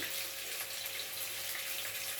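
Water for biryani rice pours into a cooking pot as a faint, steady splashing stream for a couple of seconds.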